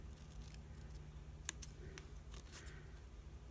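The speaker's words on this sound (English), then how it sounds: "I'm going to very carefully cut those off of there." Scissors snip a paper feather in a quiet room, a few faint, sharp separate cuts, one crisper snip standing out.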